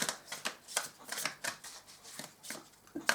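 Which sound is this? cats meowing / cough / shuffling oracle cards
shuffling oracle cards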